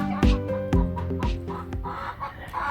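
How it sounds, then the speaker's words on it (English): Chickens and roosters on a Texas farm cluck close by in a series of short, throaty bursts with harmonic tones, each call punctuated by sharp onsets in an irregular rhythm. "Chicken."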